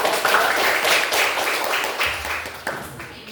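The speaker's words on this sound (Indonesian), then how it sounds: "Beri tepuk tangan untuk" A burst of clapping from a group of people at a teacher performance exam, steady and fairly close, fading slightly toward the end.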